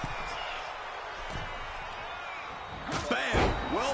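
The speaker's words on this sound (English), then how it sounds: "Bam! Well-placed calf kick." A sharp calf kick impact in the WWE 2K26 wrestling game, a single loud slap-thud near the end after a faint earlier hit, under crowd noise and commentary.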